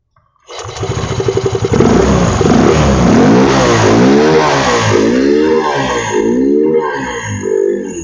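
A Yamaha FreeGo scooter engine fires up and revs, a loud, close mid-pitched drone that swells and dips in repeated throttle blips for about eight seconds, with no talking.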